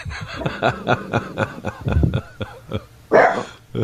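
A dog barks repeatedly in a quick, uneven series of loud, close barks and yips, joining a live stream chat.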